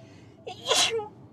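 A single sharp sneeze bursts out inside a moving Audi S5 sedan over a low, steady cabin rumble, loud and close, with a brief intake of breath just before it.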